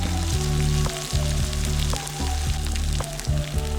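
Garlic-ginger paste and whole garam masala frying in hot oil for a chicken curry, with a loud, dense sizzle crackling steadily throughout. Short rhythmic stirring knocks run through it.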